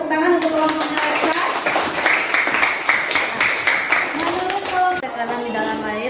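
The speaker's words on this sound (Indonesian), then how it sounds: "kita berikan tepuk tangan untuk kelompoknya mereka" Classroom clapping for a student group after a science presentation on water and oil pressure, a burst of many hands fairly close, with teacher and children's voices speaking around it before and after.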